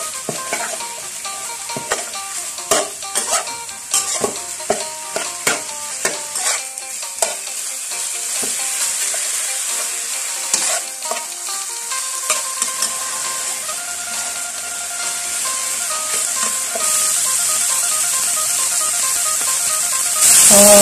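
Long stretch of stir-frying frog meat: a utensil repeatedly scrapes and knocks the pan over continuous sizzling, growing louder and more steady toward the end.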